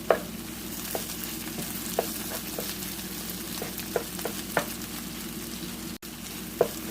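Eggs and meat fry together in a pan for an Ethiopian dish, sizzling continuously under repeated spoon taps and scrapes as they are stirred.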